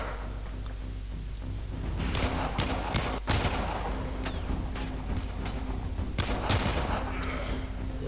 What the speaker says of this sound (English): Hold right click to aim and left click to shoot.